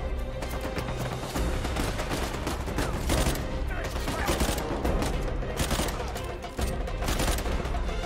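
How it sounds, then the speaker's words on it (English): Gunfire from the video game Uncharted 4 that fits sniper rifle fire. Sharp, repeated shots crack through a dense firefight, with steady background rattle throughout. "Oh, it's a sniper."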